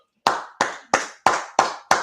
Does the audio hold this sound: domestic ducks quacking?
no